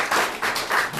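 Brief audience applause at a level 6 class showcase, a short patter of clapping in a few rhythmic swells.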